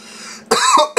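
Harsh coughing after smoking homegrown weed, a quiet breathy lead-in followed by two loud close coughs, the first longer and throaty, the second short.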